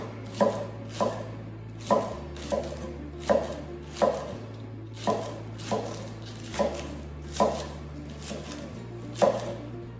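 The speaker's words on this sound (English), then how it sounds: "I'm just going to chop them in little pieces, just like you would normally cut a green onion" Green onions chopped into little pieces with a knife on a board, a dozen or so crisp close knife taps in an uneven steady rhythm over a faint background hum.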